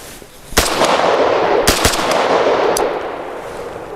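Three sharp, loud large-format handgun shots crack at an outdoor range, irregularly spaced across a few seconds, each followed by a broad lingering echo.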